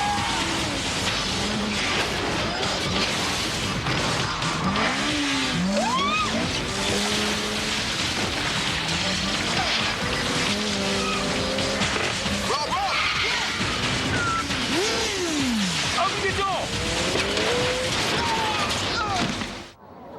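BMW Mini Coopers perform stunt driving, with repeated rising and falling tire squeals over roaring engines and road noise, loud and continuous, with crashing thumps mixed in.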